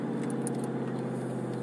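A car engine runs at a steady idle, a continuous low hum with faint higher rattles on top, close by and unbroken.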